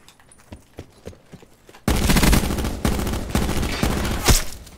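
Swordfish tactical rifle firing in a multiplayer video game, with faint scattered shots early and then a sudden loud, dense stretch of rapid gunfire bursts that lasts to the end.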